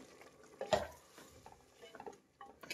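A spoon scrapes and stirs ground masala with tomato and avarekalu beans in an oily pan, a few distinct scraping strokes and soft clinks over a quiet background.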